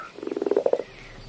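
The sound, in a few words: frog croaking in video game Minecraft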